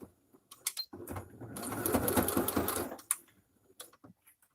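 A sewing machine stitches up the side seam of a small doll purse, a steady mechanical whirr lasting about two seconds between a few short clicks and handling noises.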